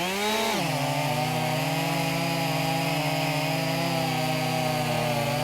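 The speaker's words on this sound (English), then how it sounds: "Both saws are chugging away at it." Two Husqvarna Rancher chainsaws, one of them a stock saw, cut through wood side by side in a horizontal cutting race, a loud steady high-revving roar that drops slightly in pitch as the chains bite and then holds constant throughout.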